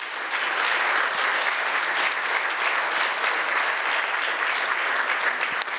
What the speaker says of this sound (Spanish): Denle el aplauso al Eterno.